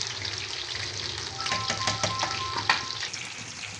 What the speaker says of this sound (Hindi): अब साथ साथ हमारे चावल पकेंगे और साथ साथ हमारे विंग्स फ्राई हो गए